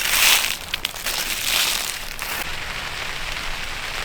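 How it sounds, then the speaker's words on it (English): Freezing rain patters on a hot tent at night during a snowstorm, a dense steady crackling hiss of ice pellets hitting the fabric, close and continuous with no voices. "It's been freezing rain all night."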